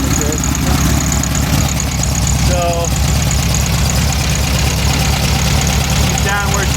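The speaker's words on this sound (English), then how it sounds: "as you can see or hear, she's idling a little better" A rebuilt engine idles in a close, loud, steady rumble with a faint ticking, while a voice speaks briefly over it.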